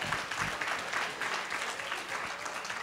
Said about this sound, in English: We should do a clap for Peggy Flaherty.